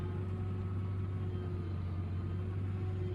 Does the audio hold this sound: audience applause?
no